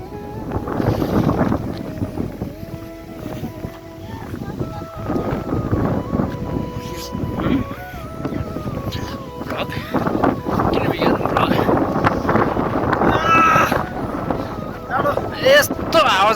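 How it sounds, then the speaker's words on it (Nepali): Strong wind gusting across the open shore of Dhumba Lake near Jomsom in Mustang, roaring and buffeting the microphone steadily, with people talking over it. "यस्तो हावा चलिरहेको छ यहाँ"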